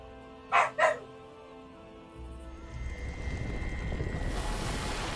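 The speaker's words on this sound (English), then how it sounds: "gotta deal with the dog" A dog indoors gives two quick, sharp barks close by, followed by quiet room tone that rises into a low rumbling background.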